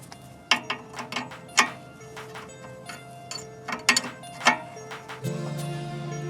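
Threaded brake caliper bolt being unscrewed on a Honda Civic, a series of scattered metallic clicks and ratcheting taps, fairly close, ending in a steadier low mechanical rattle.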